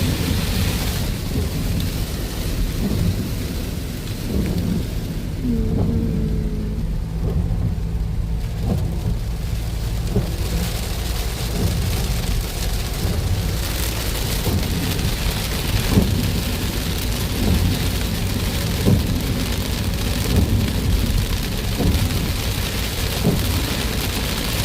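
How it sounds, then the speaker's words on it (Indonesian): Heavy rain falls steadily in Pangkalpinang on Bangka Belitung Island, a loud continuous roar with deep thunder rumbling underneath and no talk throughout. "kalau hujan gini ya"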